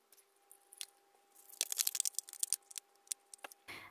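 Scissors cutting scrap craft material for a Halloween witch gnome decoration, a run of close, crisp snips and crinkles that starts quietly and then quickens, with no voices.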